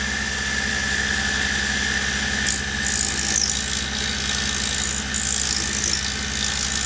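A lathe turning an off-centre pipe stem or mouthpiece on a dowel with multi-axis turning, heard as a steady droning motor hum with a constant high squeal and faint cutting scrapes, close and continuous without speech.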